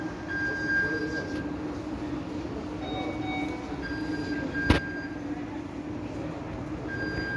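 A Riyadh metro train in an underground station, a steady rumbling hum with thin tonal whines from the train, and one sharp click partway through.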